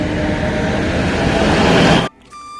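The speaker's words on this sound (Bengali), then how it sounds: "তো এখন ট্রেন চলে যেতেছে" A train pulling out of Amjonga station, a loud, close, continuous low rumble and roar that cuts off abruptly near the end, leaving a quiet tonal hum.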